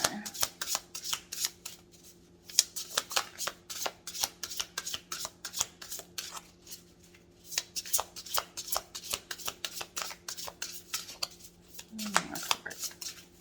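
Oracle cards are shuffled in quick repeated riffling bursts with short pauses between rounds, close and fairly soft, and a voice speaks briefly near the end.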